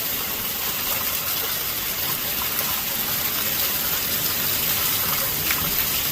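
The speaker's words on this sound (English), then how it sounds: "There's so much rain just pouring off the house." Heavy rain pours off a house roof in a dense, steady hiss and gush of falling water, loud and unbroken throughout.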